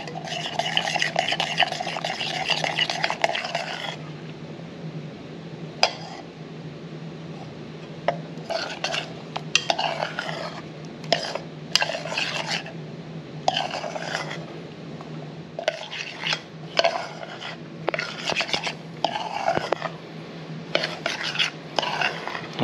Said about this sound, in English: we're just going to stir this until it starts to thicken up.